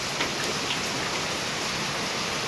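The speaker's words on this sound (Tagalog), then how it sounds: "Grabe ang lakas ng ulan." Heavy rain pouring steadily as a dense, continuous hiss of water, loud and unbroken with no voices.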